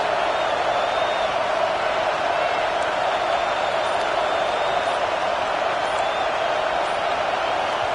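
A football stadium crowd roars as a steady, loud wash of noise that never lets up, with faint cheering rising within the constant din.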